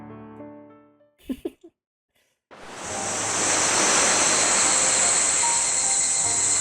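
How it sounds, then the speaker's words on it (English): After a brief music cue and a few soft thumps, a loud, steady wash of ocean surf with a hiss of summer insects sets in on a summer evening in a visual novel game, continuing unbroken to the end. "The sound of the waves, the cries of the cicadas."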